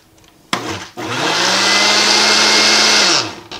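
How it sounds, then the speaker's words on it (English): A kitchen blender whirs up roasted cauliflower aioli: a short burst, a brief pause, then a loud steady high-pitched motor whine that runs for a few seconds before cutting off. "I'm going to go ahead and blend this"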